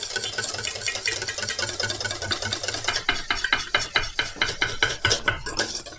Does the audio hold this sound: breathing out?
no